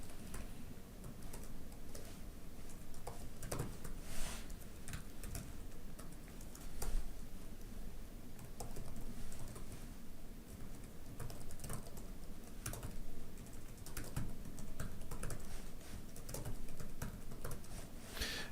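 Rapid, steady keystrokes on a computer keyboard while filling in a sign-up form, a continuous patter of close clicks with no voices.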